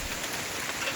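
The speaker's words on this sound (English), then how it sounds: "Hailstorm." A hailstorm in Georgia in April produces a dense, steady hiss of ice pellets pattering on surfaces, a constant wash of impacts with no pauses or voices.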